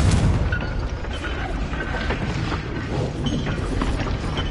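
A Confringo fire spell blast in the video game Hogwarts Legacy, a loud, dense fiery roar with low rumble and crackling bursts running steadily through the whole stretch.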